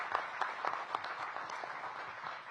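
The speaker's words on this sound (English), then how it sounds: "Please give Kenyon a big round of applause." An audience gives a round of applause for a council member at a DC mayoral event on a growth agenda, a brief burst of dense clapping at moderate distance with no voices.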